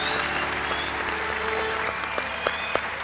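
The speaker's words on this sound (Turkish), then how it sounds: "Alkışlarla Aşkım Kapışmak'a yerini alıyorum" Sustained audience applause fills a TV studio, an even, fairly distant wash of many hands clapping, with a few sharper individual claps standing out near the end.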